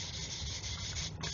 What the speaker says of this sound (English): just lightly sanding, no pressure,